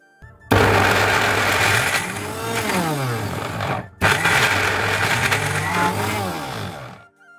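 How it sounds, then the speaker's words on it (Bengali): An electric blender grinds a chickpea mixture with salt, red chili powder and a little water. Its loud motor whines steadily, dips briefly as it stops and restarts, then runs on and cuts off. "লবণ স্বাদ মতো ও 2-3 টেবিল চামচ পানি দিয়ে আমি এটাকে ভালো করে ব্লেন্ড করে নেব।"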